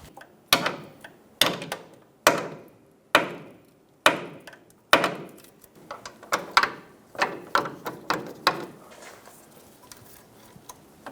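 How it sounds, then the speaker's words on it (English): A hammer taps a socket onto a power steering hose fitting on a Toyota, sharp ringing metal strikes at a steady pace, then quicker lighter taps toward the end. "I'm going to use a hammer and tap it on."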